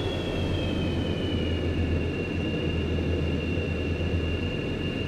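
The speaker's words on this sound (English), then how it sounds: "Okay, so here goes the speed brake." Steady, dense jet roar from an F/A-18E Super Hornet in the FSX flight simulator as the speed brake deploys, a continuous broadband rumble with a thin high whine sliding slightly downward, no talking.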